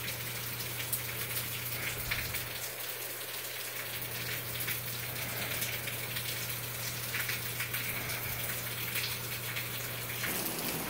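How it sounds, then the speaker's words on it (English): A steady hiss of heavy rain falling in Georgia, even and continuous, with a low hum underneath and no voices. "Heavy rain in Georgia."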